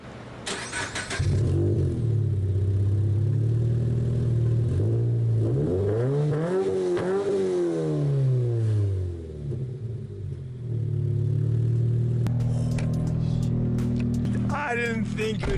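Subaru BRZ fitted with a new, loud aftermarket exhaust, engine running close by with a deep steady idle that swells through rising and falling revs, then settles back to a heavy rumble.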